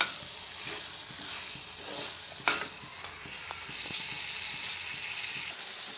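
Kharada mutton is stirred in a pan, a soft continuous sizzle under scraping and clinking of the spoon with a few sharper knocks against the pan.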